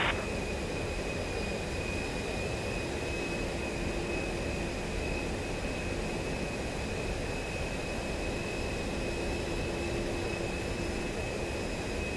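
A jet aircraft takes off in the combat flight simulator game DCS World, a loud, steady engine roar with a sustained high whistling tone running unbroken for about twelve seconds, with no voices.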